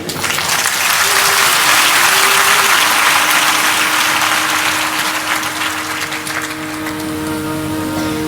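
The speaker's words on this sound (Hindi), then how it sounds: "कितनी कितनी ऊंची बात आपको सुनाई जा रही है और ताली इतनी ढीली, मरी परी" Loud, sustained applause from an audience at a devotional satsang, steady dense clapping filling the whole stretch with a constant tonal hum beneath, easing slightly toward the end.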